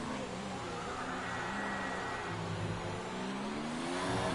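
A Ferrari Formula 1 car engine in the F1 2019 racing game at Mexico, a steady high-pitched drone that rises slightly as the car accelerates, moderately loud with no talking.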